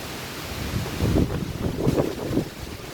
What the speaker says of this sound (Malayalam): കാറ്റെന്ന് പറഞ്ഞാൽ ഭയങ്കര കാറ്റാണ് കേട്ടോ.